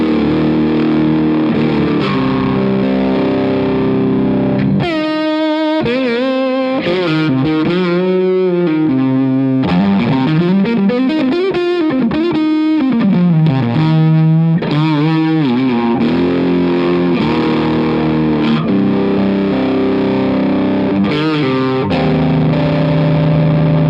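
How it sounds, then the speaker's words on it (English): An electric guitar through a fuzz pedal in zonk mode with mild fuzz, feeding an AS Pedals Wild Lobo and reverb, plays gliding, wobbling distorted notes and sustained chords, loud and alone with a lush reverb tail. "in its zonk mode with not too much fuzz into the AS Pedals Wild Lobo, and it's a killer sound in my opinion"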